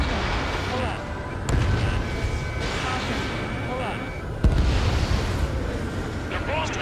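Heavy bombing explosions boom in the video game Ace Combat 7 Skies Unknown, with a few deep blasts standing out over a constant rumbling war din, mixed with voices talking over radio chatter.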